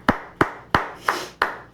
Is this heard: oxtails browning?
no